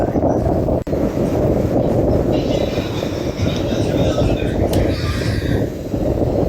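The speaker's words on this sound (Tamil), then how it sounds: "இன்றைக்கு கொஞ்சம் மழையும் காற்றும் கொஞ்சம் கூட அடிக்குது பாருங்கள்" Strong storm wind in Jaffna, Sri Lanka, buffets the microphone as a loud, continuous low rumble lasting the whole stretch. Faint higher hissing drifts in over it, and rain is not distinctly audible.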